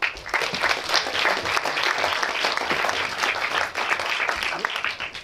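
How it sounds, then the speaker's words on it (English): Audience applause after a talk on climate science, steady dense clapping from a large crowd throughout, loud and continuous with no voices. "Let's hear it for Phil"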